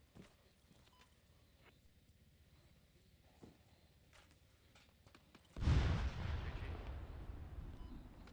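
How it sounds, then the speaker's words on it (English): Incoming mortar round in ARMA 3 striking with one heavy, booming explosion after a stretch of quiet with faint distant pops, its deep rumble rolling on and slowly decaying. "We're taking mortars over here on the southeast side."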